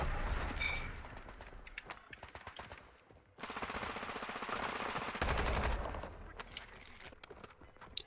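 Rapid bursts of automatic gunfire in Warzone, with sharp repeated shots clustered in quick strings, a dense louder stretch in the middle, then scattered single cracks.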